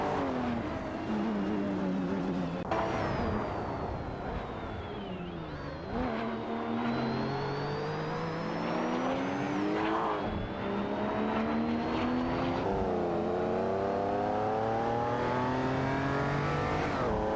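Race cars including Ferraris, BMWs and a Lamborghini Countach LP5000 in a racing video game, engines revving and shifting through gears with rising and falling pitch, loud and continuous, with overlapping cars and no talk.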